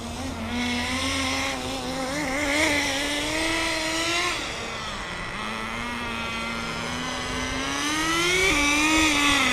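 A RedCat Tornado S30 RC car races nearby with a continuous high-pitched motor whine that rises and falls in pitch as it shifts gears and accelerates.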